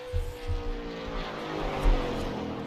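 Super late model race car on a qualifying lap at 5 Flags Speedway, its engine a steady loud drone with a rising, sustained pitch as it runs around the short track.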